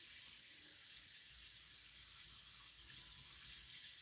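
Tap water runs steadily into a pet reptile's water bowl, a quiet, continuous hiss of flowing water with no voices.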